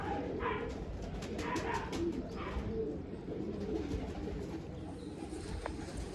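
Pigeons coo softly in a bird loft, with repeated low calls over continuous background noise and a possible dog bark.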